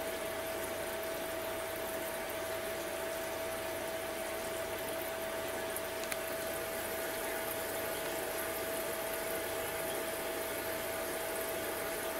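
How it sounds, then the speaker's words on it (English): A DIY reverse osmosis machine runs its pump while flushing the membrane, a steady hum with a constant tonal whine and water rushing, unchanging and alone. "as the membrane is flushed"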